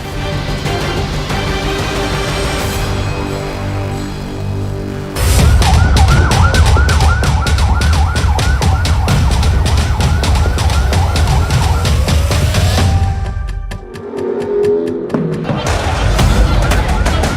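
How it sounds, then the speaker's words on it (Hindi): Ambulances arrive one after another outside a hospital in the West Bank, their sirens wailing loud and close. A steady tone gives way to a fast rising-and-falling warble, then briefly drops out before returning. "फिलिस्तीन के वेस्ट बैंक के इस अस्पताल के बाहर एक के बाद एक एम्बुलेंस फ्लैश लाइट जलाकर पहुंचती है।"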